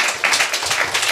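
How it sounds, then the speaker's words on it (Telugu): A church congregation claps together to glorify the Lord, a dense, steady patter of many hands filling the space at close range for about a second. "చప్పట్లు కొట్టి ప్రభును ఘనపరుద్దాం."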